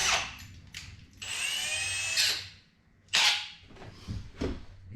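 A power drill bores out rivets on a race car trailer in several bursts of high-pitched whining and grinding, separated by short pauses and clunks, recorded up close.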